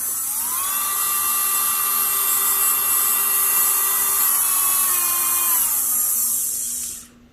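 A Melodysusie SR3-Jade electric nail drill (e-file) runs steadily for several seconds with a loud, high-pitched whine, its pitch shifting slightly before it spins down and stops at the end.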